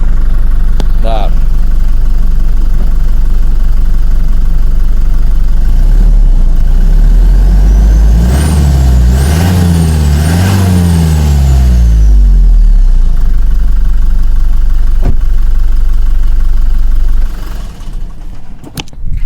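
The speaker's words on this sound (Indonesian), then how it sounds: "Tak kasih dengar untuk suara mesinnya sekilas ya." A 2022 Toyota Innova Reborn V automatic with a diesel engine idling, a loud, steady low rumble that swells briefly as the engine revs mid-clip and then settles back to idle.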